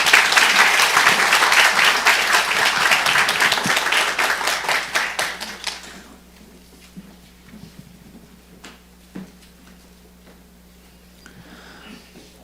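Applause from a church Sunday service congregation welcoming a pastor to the pulpit, loud sustained clapping for about six seconds that fades out into quiet room tone with a few faint knocks.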